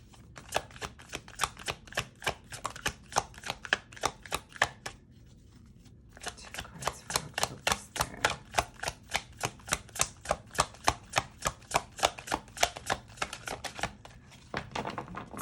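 Tarot cards are shuffled in a steady run of crisp riffling flicks, close and fairly loud, stopping briefly about a third of the way through before resuming at the same brisk pace.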